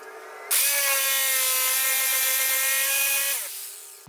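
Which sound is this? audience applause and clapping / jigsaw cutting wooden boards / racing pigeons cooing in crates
jigsaw cutting wooden boards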